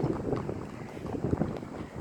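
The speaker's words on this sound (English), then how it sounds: "But the wind's very nice today." Wind blows outdoors during a walk, a steady broadband rumble and buffeting against the microphone, close and continuous with no talking.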